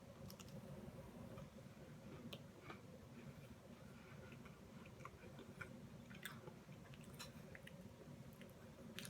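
Close, quiet chewing of a Special K brown sugar cinnamon pastry crisp, soft crunches and small clicky bites repeating over a low steady room hum, no talking.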